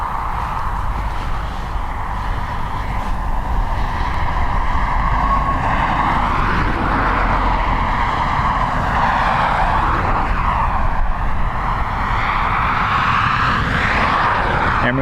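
An Airbus A321 at Dublin Airport gives off a loud, steady roar of jet engines with slowly shifting whine tones throughout, heard close and continuous with no talk.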